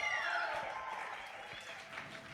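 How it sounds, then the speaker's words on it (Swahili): A church congregation at a Pentecost service claps, a busy continuous patter of many hands held at an even level, slightly distant and filling the room without speech over it. "piga makofi mazuri, shangilia Yesu"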